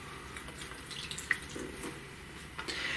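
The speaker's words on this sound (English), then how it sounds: "For hydration, I'm using most of a gallon of heavily dechlorinated tap water." Dechlorinated tap water poured from a gallon container into a curly-haired tarantula enclosure, heard as faint trickling and sparse drips in a quiet room.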